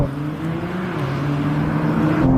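A Honda NSX sports car accelerates hard in a straight-line drag race, its engine a steady, rising drone heard from close by, growing slightly louder toward the end.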